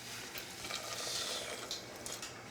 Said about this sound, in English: I'm gonna pour the boiling water into the rice.